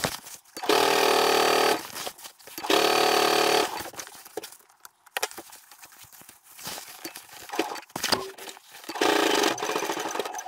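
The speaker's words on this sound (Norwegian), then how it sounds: "Så bare fortsett å sy rolig og forsiktig." A sewing machine stitching through several thick layers of an anorak, running in steady loud bursts of rapid mechanical clatter separated by short pauses, close up and without talk.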